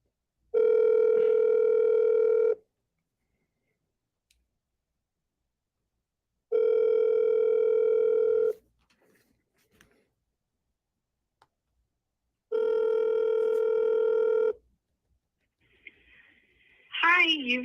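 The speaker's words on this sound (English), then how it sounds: "I'm gonna call her 3 times actually" An outgoing phone call rings back three times, each a steady two-second electronic tone separated by long silent gaps, followed by a brief click and the start of a recorded voice.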